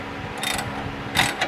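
A 19 mm wrench ratchets against a bolt to pop the tie rod ball joint on a 1997-2002 Ford F-150, giving two short bursts of close ratcheting clicks with a quiet pause between them.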